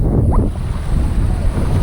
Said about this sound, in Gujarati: મોજા પણ આવે છે